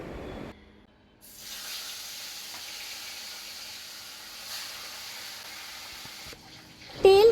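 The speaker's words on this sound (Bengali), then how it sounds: "গরম হয়ে গেলে একে একে মাছগুলো আমি এপিট ওপিট করে লাল লাল করে ভেজে তুলে রাখলাম" Tilapia pieces frying in hot mustard oil in a kadai give off a steady, close sizzling hiss that runs for several seconds, then cuts off near the end.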